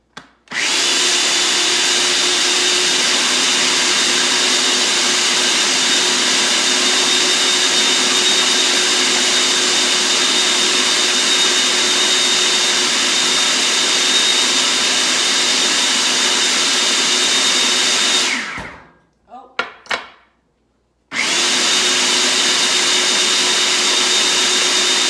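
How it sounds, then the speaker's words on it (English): An old food processor blends a creamy carrot and artichoke dip with a loud, steady motor whine that runs continuously, cuts out briefly near the end with a short stutter, then resumes at full power. "we're just going to keep blending this essentially until we get down to that nice creamy texture"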